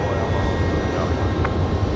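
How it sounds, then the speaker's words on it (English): A QantasLink flight from Adelaide arriving at Brisbane Airport at night: a steady, loud engine roar fills the whole moment while a person talks over it. "we are going to see the Qantas Link 1936 arrive from Adelaide"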